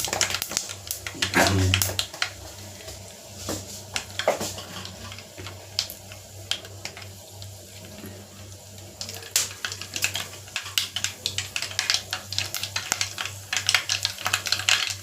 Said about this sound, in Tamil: இப்போ கடுகு ஒரு அளவு போட்டுக்கணும். அது பொரிஞ்சு வரட்டும்.